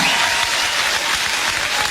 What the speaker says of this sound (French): attention, tonnerre d'applaudissements pour Philippe et Nathalie Pubilan.